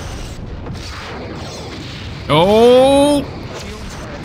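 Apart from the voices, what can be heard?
photon torpedo explosions in a Star Trek video game battle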